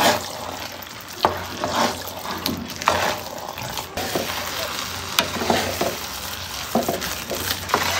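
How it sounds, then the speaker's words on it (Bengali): Chicken biryani meat is stirred in a pot, a continuous close sizzle and frying hiss broken by irregular scraping and clinking knocks of the spoon against the pot. "মাংসটাকে দিয়ে ভালোভাবে মিক্স করে দেব।"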